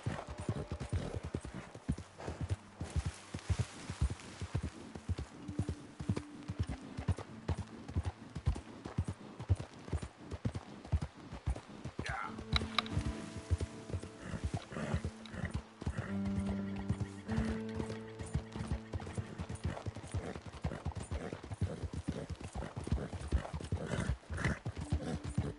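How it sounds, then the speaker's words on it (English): Horse hooves clip-clop at a gallop in Red Dead Redemption 2, a fast, steady rhythmic pounding heard up close, with occasional neighs and whinnies and game music over it and no speech. "me da pena el caballo, tío, se está cansando."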